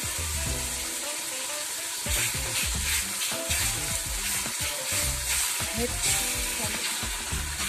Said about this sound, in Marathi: मी इथे फोडणीमध्ये टाकली आहे तेलामध्ये